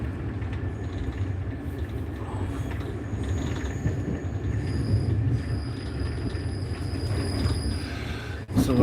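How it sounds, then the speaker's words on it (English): An electric train runs steadily with a broad low rumble of wheels and carriage, while thin high whines and faint crackles suggest sparking at the overhead wire, ending with a sharp clunk. "A little bit of sparking overhead, I think, judging by the noise that I'm hearing."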